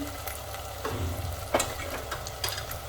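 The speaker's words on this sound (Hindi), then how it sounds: "ये इसको चलाते रहें, नहीं तो ये नीचे से लगने लगता है।" Mutton being stirred in a pan with red chilli powder, coriander, turmeric and cumin frying in it, a steady low sizzle broken by a few scraping stir strokes, close and alone with no talk.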